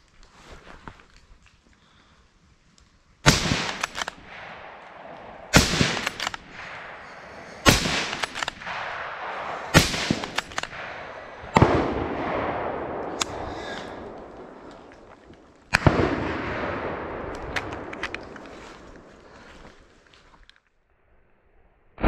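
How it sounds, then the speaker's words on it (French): Rifle shots fired at a wild boar during a driven hunt in open plain, several sharp, loud cracks spaced seconds apart, each followed by a fading echo, with quiet outdoor ambience between. "La première balle est parfaite, la deuxième un petit peu moins, mais le sanglier reste sur place."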